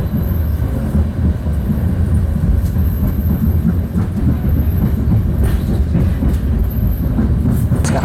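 Tegal Bahari business-class passenger train running on rails after leaving Cirebon, heard from inside the carriage as a loud continuous rumble with faint rhythmic clacks of the wheels.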